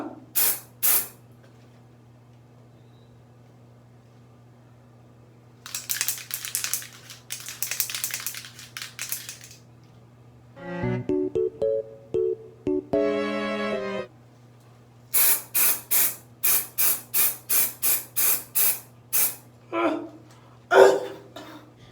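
Hairspray hisses from a can in several groups of short, sharp bursts, close up, with pauses between and a stretch of talking in the middle over a low steady hum.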